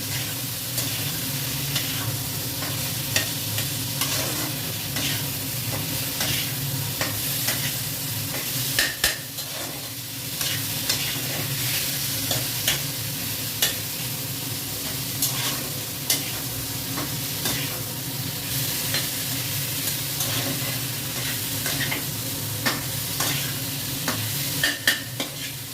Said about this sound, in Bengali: আলু দিয়ে মশলা দিয়ে এবারে ভালো করে কষা হবে যতক্ষণ না মশলা থেকে তেল ছাড়ছে